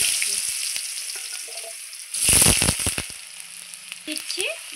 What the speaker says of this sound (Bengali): আলুটা আমি খুব সুন্দর লাল লাল করে ভেজে নেব।